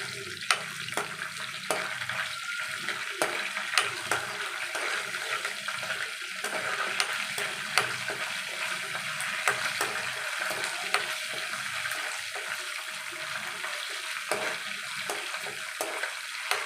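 Mustard seeds and cumin frying in hot oil make a constant crackling sizzle with many sharp pops and spatters scattered throughout. No one talks.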